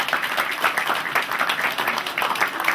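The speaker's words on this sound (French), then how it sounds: "on peut les applaudir" An audience applauds a couple celebrating their golden wedding anniversary, a steady dense clapping from a crowd filling the whole stretch, fairly close.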